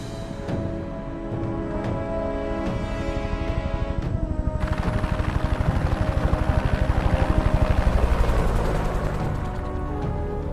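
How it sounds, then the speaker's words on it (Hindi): A helicopter taking off in the dubbed action film Big Bad Bugs, its rotor thumping in rapid pulses that swell louder and fuller as it lifts, with a burst of added rushing noise partway through. "हेलीकॉप्टर निकल गया है।"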